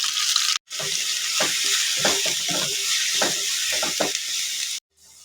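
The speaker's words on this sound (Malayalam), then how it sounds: "കടുകൊക്കെ നല്ലപോലെ പൊട്ടി വരുന്നുണ്ട്" Mustard seeds crackle and pop in hot oil, sharp bursts scattered over a steady sizzle, close by, ending abruptly.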